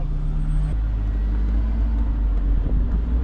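A Honda S2000 sports car engine runs at a steady low rumble from inside the cabin, continuous and fairly loud with a faint tonal whine early on.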